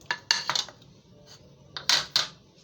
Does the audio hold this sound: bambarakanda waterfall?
no